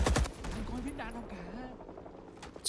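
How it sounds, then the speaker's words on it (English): RPD machine gun fire in Rising Storm 2, a dense loud burst of rapid shots at the start, then quieter scattered reports and a voice speaking over the rest, with one more sharp shot at the end. "you just shoot them through the wall"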